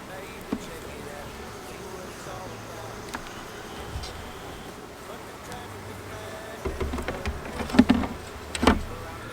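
Honeybees buzz steadily around an open hive during a late-season inspection, a continuous low drone with a few louder, closer passes near the end.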